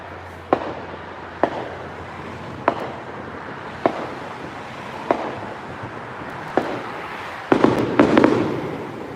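July 4th fireworks launched beyond a stand of trees boom in the distance at regular intervals of about one to two seconds, ending in a quicker cluster of crackling bursts, with no talk.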